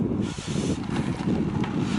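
Steady wind blowing across the microphone while riding on small tyres along the Suisse Normande greenway in January, a low continuous rumble with gusty buffeting throughout.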